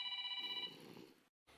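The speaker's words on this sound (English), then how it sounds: "I have a phone call. Hold on a second." Incoming call on a telephone: a loud electronic ring with a rapid trilling warble for just over half a second, fading into a brief softer tail before silence.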